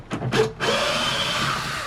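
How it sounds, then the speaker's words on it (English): A power drill with a large bit countersinks a screw hole. A couple of short trigger bursts come first, followed by a sustained whirring grind that slowly fades, close and fairly loud. "What I'm going to do is just quickly countersink it with a large drill bit."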